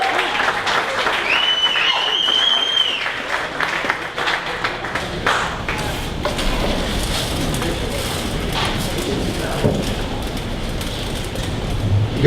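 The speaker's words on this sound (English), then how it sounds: "please stand up this time, give him a warm welcome and big round of applause" An audience at a 1 Million Cups Dallas event stands and applauds to welcome a speaker, with steady loud clapping throughout, a few cheers and crowd noise mixed in.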